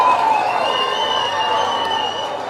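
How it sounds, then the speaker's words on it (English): A crowd applauds and cheers loudly and continuously, a dense sustained roar of clapping and voices with shouts rising above it, fading slightly toward the end. "let's give Kabir a huge round of applause"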